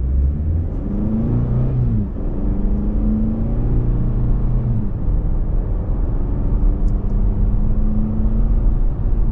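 The 2.5-litre four-cylinder engine of a 2024 Toyota Camry SE AWD hums and drones steadily under load while driving down the road, with the pitch rising and shifting as it pulls.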